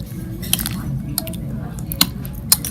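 Thai fruit salad mixed in a bowl with lime juice and banana, soft wet squishing under a steady low hum, broken by a few sharp clinks of utensil against the bowl.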